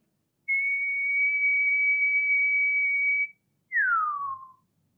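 A person whistles in imitation of a forest bird's call: one long, steady, pure note held for about three seconds, then a short pause and a quick downward-sliding whistle. Both are clear and close, with no talking.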